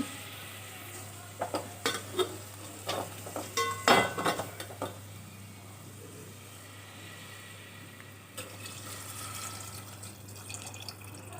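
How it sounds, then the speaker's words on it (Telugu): Tamarind water poured into a pot of drumstick curry in a home kitchen, with a burst of splashing and clinking of a utensil against the pot around the middle, then quieter stirring and faint bubbling under a steady low hum. "ఇప్పుడు చింతపండు నీళ్లు కలిపి పెట్టుకున్నానండి అవి పోసేస్తున్నానండి"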